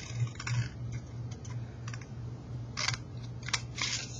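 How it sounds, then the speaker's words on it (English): Paper being cut with scissors along a printed cut line for a pop-up book, giving a few short crisp snips and crunches close by over a steady low hum, with no talking. "Cut the whole length of that cut line."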